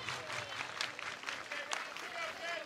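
Crowd applause at a college softball game between LSU and Florida, a steady wash of distant clapping filling the whole stretch, with a faint whistle-like tone rising through it.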